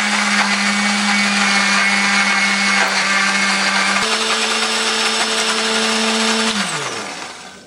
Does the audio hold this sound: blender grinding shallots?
yes